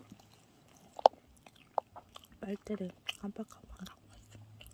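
Someone eats an Isaac Toast sandwich close to the mic, with a few sharp bites and soft chewing, then speech over the end of the chewing.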